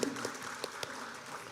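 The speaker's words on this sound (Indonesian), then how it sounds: "Tepuk tangan untuk Pak Firdaus" Soft, scattered applause from attendees at an annual members' meeting of a financial cooperative in Pemalang, with a few sharper individual claps standing out of a quiet, distant patter.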